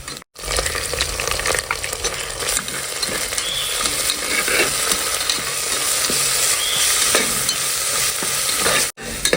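Onions, ginger and garlic fry loudly in a pan, a dense, unbroken sizzle with constant scraping and stirring, close up, cutting off abruptly near the end.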